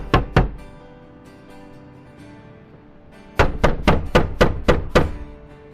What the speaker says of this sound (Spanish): La puerta de entrada se estremeció con golpes de puño que anunciaban la intención de su visitante de entrar.